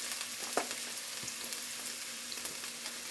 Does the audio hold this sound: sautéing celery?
yes